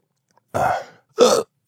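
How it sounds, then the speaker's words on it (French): Two short, sharp hiccups from a person who has just eaten very hot fermented chili sauce, each a brief voiced burst about half a second apart, close and clear against silence. "Oh, j'ai le hoquet."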